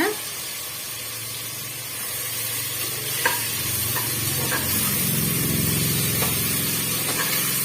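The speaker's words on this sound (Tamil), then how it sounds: "சேர்த்துட்டு மீடியமான தீயில் வச்சு நல்லா வந்து நம்ம வறுத்து விட்டுடலாங்க" Onion and ginger-garlic paste frying in oil over a medium flame for a mutton gravy: a loud, continuous sizzle and hiss that swells partway through, with a few light stirring clicks.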